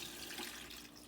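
Water running into a cooking pot while barbacoa is prepared, a steady close pouring and splashing wash that holds for about a second, alone with no talk.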